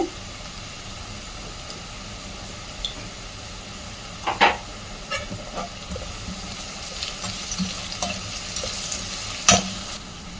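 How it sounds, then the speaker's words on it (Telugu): Sliced onions with a spoonful of salt fry in a pan with a low, continuous sizzle, and a spoon stirs now and then with scattered scrapes and a few sharp taps on the rim. "ఇప్పుడు ఉల్లిపాయలు వేగినాయి కదా"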